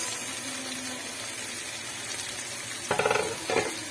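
Onions and tomatoes sauté in a pan with a constant close sizzle, broken near the end by two short bursts of stirring.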